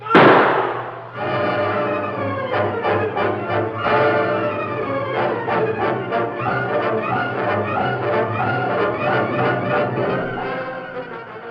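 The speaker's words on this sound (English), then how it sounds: "The masked man's fast shot at Tyler's leg came too late" A gunshot sound effect in an old-time western radio drama: a loud sharp bang at the start, quickly followed by a busy, continuous musical or dramatic bed that carries on steadily to the end.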